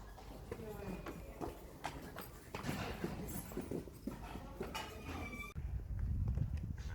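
Horse hooves clip-clopping on an arena surface during a dressage test at a championship show, a steady walking rhythm at moderate distance, with a person talking over it throughout.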